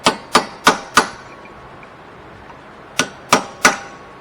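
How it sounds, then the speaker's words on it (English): Metal punch struck with a hammer to crimp a wheel bearing nut on a third-generation Subaru Forester: four sharp ringing clangs in quick succession, a pause, then three more, close and loud. "Then you're going to take a punch and a hammer."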